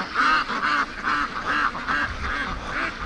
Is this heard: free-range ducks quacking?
yes